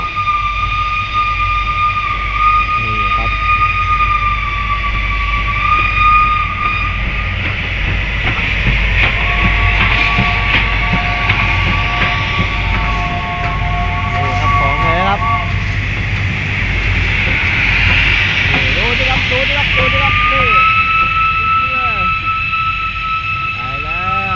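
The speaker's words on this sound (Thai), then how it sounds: "แต่รถไฟของจริง นำเข้าจากยุโรป" Loud, continuous rumble of a European-built steam train running, with sustained whistle-like tones rising above it at moments.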